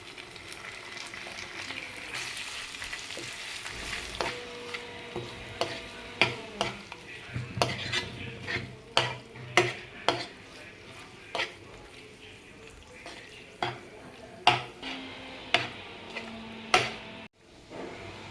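Onion, tomato and goat liver frying and being stirred in a pan, a continuous close sizzle with repeated sharp metallic scrapes and knocks of the spoon, growing more frequent toward the end before cutting off.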